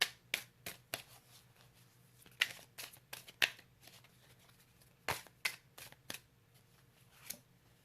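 Tarot cards are shuffled and riffled for a romance reading, sharp papery flicks and snaps arriving in irregular bursts, close and crisp against a quiet room.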